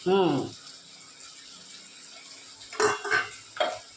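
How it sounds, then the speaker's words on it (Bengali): Spices stirred and fried in a pan with a little soaking water, a spoon scraping and clinking against the metal in short bursts with a soft sizzle between, and someone talking at the start. "মিশিয়ে নিচ্ছে ভালো করে মশলাগুলোকে, কষিয়ে নিচ্ছে।"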